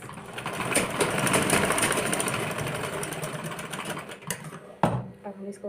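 Stitching along a blouse seam, a sewing machine whirs continuously up close, tapering off near the end into a few handling knocks and brief quiet.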